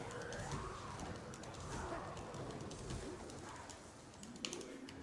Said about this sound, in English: And then we've got those stupid birds again.